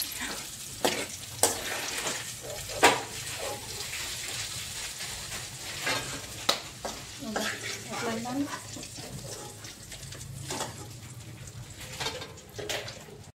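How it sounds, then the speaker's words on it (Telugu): Green chillies fry in a pan for a chukkakura pachadi, giving a soft, continuous sizzle broken by scattered pops and crackles, with stirring noises and people talking at times. "పచ్చిమిర్చి అయితే ఇంకా వేగాయి"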